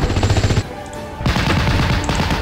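Machine gun fire from the World War II strategy game Steel Division: Normandy 44. Two loud, close bursts of rapid automatic shots are separated by a short gap with a lingering tail.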